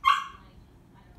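A single sharp dog bark rings out at the start, loud and close, then fades into quiet indoor room noise.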